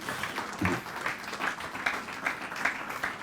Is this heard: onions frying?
no